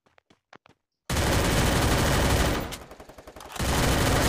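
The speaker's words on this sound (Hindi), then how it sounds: "अरे यार मैं गोलियाँ फ्री में खर्च कर रहा हूँ" Loud automatic gunfire in the Free Fire video game, Clash Squad mode: a few soft clicks, then a sustained dense burst of rapid shots that briefly thins out before resuming at full volume, with no talking.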